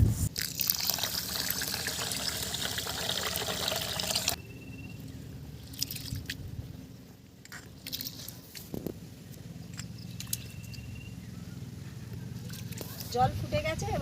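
Masoor and mung dal being rinsed by hand in a bowl of water for prawn khichuri: a dense, close splashing and swishing for the first few seconds, then quieter wet squishing and trickling with scattered handling noises.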